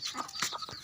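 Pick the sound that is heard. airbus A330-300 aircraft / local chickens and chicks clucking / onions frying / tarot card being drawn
local chickens and chicks clucking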